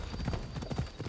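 A horse's hooves clip-clop in a steady, fairly loud rhythm in Assassin's Creed Odyssey, with several quick beats over a short stretch and no talking.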